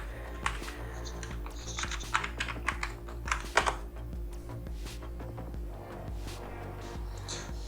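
A password is typed on a computer keyboard at a Windows Server 2019 login screen, with a quiet run of clicky keystrokes in uneven bursts over a low background hum and no voices.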